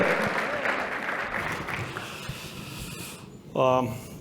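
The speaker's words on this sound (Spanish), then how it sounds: "Así que Juan José Sáenz, un gran aplauso." An audience applauds steadily for a few seconds at the Digital Care Santiago 2019 conference, the clapping fading out before a short voice cuts in near the end.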